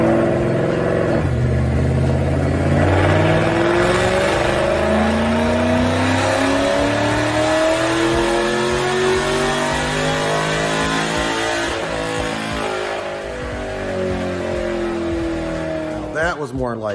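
A Ford modular V8 with BBK long tube headers and QTP cutouts revving hard on a dyno, a loud sustained climbing roar through the gears that drops off abruptly near the end.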